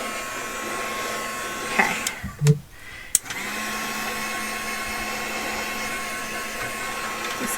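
A heat tool blows hot air to melt and fuse craft material into a web for a junk journal page, a steady whooshing hiss with a brief pause in the middle before resuming; a voice speaks briefly.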